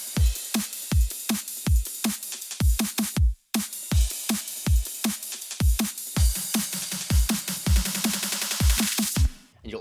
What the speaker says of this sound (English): the drums in the last drop sound like this